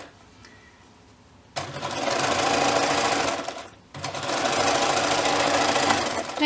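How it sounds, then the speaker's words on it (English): A sewing machine stitches the body of a turtle stuffie, starting after a quiet moment and running in two loud, steady bursts with a brief pause between them. "And again, we're just sewing it about 1/4 inch."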